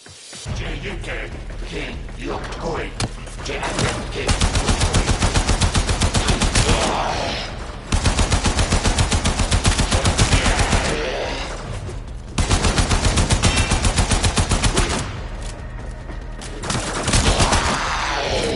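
Rapid automatic fire from a primary weapon in the Warframe video game, loud and sustained in long bursts broken by brief pauses, with game sounds behind it.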